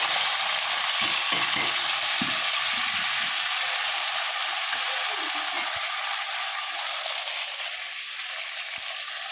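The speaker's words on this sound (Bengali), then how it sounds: "শুকনো লঙ্কা, জিরে আর একটু শুকনো লঙ্কা ফোড়ন দিলাম। পেঁয়াজগুলো দিয়ে দিলাম" Onions hit hot oil already tempered with cumin seeds and dried chili, giving a loud, steady sizzle with scattered stirring scrapes and clicks, no talking.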